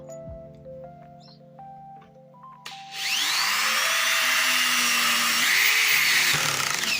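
An Intertool WT-0110 corded screwdriver drives a screw on its first speed: a few faint clicks and short tones come first, then the motor starts with a sharp jump in level and holds a loud, steady whirring whine to the end.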